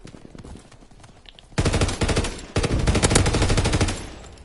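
Enemy strafing run in the video game Call of Duty WWII, with sparse popping shots giving way to a sudden, loud, sustained burst of rapid machine-gun fire that pauses briefly and then resumes.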